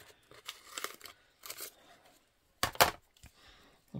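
Scissors cut through a paper doily in a few short, close bursts of crisp snipping and rustling, separated by quiet pauses.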